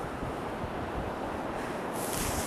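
Ocean surf washing over tide pools, a constant broad roar with wind buffeting the microphone and no talk.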